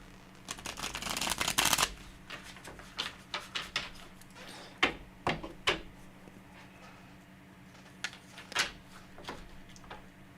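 Tarot cards being shuffled, a quick riffling burst at the start followed by scattered soft taps and slides of cards being handled and laid down, close and fairly quiet.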